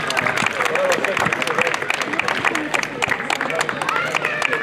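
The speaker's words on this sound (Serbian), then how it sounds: "Jedan aplauz." Crowd applause at an outdoor award ceremony in a Serbian village, steady dense clapping from many hands with a murmur of voices underneath.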